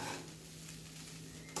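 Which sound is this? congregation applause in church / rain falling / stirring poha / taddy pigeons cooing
stirring poha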